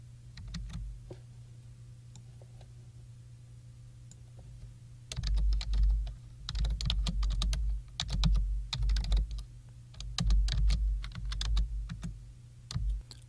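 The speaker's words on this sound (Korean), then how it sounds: "타이핑을 완료했는데요" Computer keyboard typing while entering HTML practice code into a text file: brief sparse keystrokes at first, then after a pause dense, fast clattering bursts of key clicks close to the microphone, with a steady low hum beneath.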